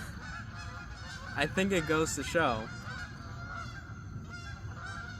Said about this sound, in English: you'd hear all the birds